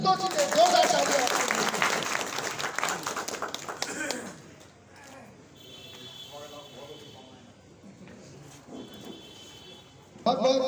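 Dense, loud applause from an audience at a BJP felicitation ceremony on Makar Sankranti fills the first four seconds, then fades into quieter speech with faint scattered sounds.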